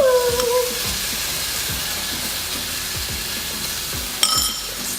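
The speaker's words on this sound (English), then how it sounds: "the pan's nice and hot. I'm gonna go ahead and add this cauliflower rice" Cauliflower rice hits a hot pan with a loud initial hiss that settles into a steady sizzle, with light scraping knocks throughout and a brief clatter near the end.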